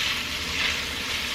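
Chopped onion and bell pepper sizzle and fry in a pot, a steady close crackling hiss with no talk over it.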